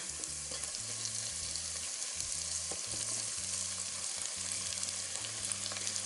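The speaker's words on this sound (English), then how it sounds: "Put the tomatoes in." Tomatoes frying in a hot pan, a steady bright sizzle with faint stirring beneath a rhythmic low musical pulse, no speech.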